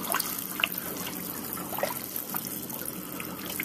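Water trickling and dribbling from a big leak in the copper ice-making coils of an ice machine, a steady close hiss of running liquid with small drips, no voices.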